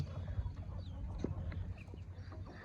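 Young pure Kaki breeder chickens on a farm cluck softly and intermittently, fairly faint and mid-distance, over a low rumbling background with a few scattered bird calls.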